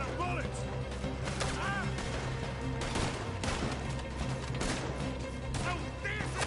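Gunfire in Red Dead Redemption 2, scattered sharp shots and heavier blasts over a busy game soundscape, fairly close, with a voice talking between the shots.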